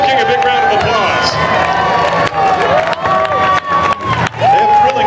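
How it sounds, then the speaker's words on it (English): At a Fourth of July parade in Jackson, Wyoming, a street crowd cheers, whoops and claps loudly for the Snow King float, with shouting voices, whistles and an announcer's voice over the din. "Give Snow King a big round of applause."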